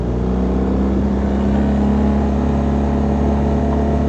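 A motorcycle engine revs and drones unevenly under rough, jerky clutch work on a rural West Virginia trail, close and loud, with a steady low hum and shifting pitch and no voices.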